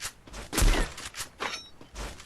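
Rapid bursts of sniper and automatic gunfire from a video game battle, several sharp reports spread across the moment with a rattling, crackling texture, fairly loud and without talk.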